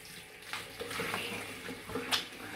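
Water splashes and trickles as someone wets their face by hand before a wet shave, in a few soft, uneven splashes. Quiet and close, with no speech.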